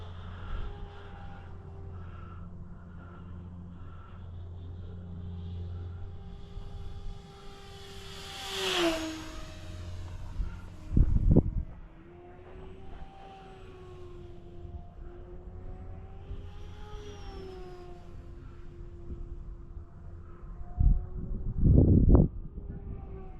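Electric model airplane, an Electrostreak, with its motor and propeller running at about half throttle: a steady tonal whine with a pitch sweep partway through, rising and falling as it passes, with a couple of louder buffeting bursts.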